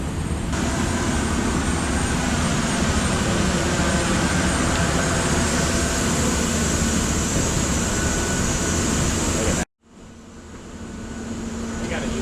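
A loud, steady airplane engine roar drones continuously from close by for most of the stretch, then cuts off abruptly and returns as a quieter, slowly rising hum.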